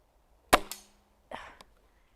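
A Gamo Swarm Viper 10x Gen 3i air rifle fires one sharp, close crack, followed a moment later by a softer thud of impact or a mechanical clack.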